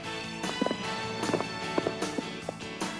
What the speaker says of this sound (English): canter and gallop against the clock